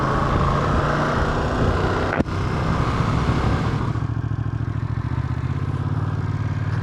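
A motorcycle ridden around the Cookstown 100 public road racing circuit gives a steady, close engine drone mixed with wind rush, broken by one sharp thump just after two seconds.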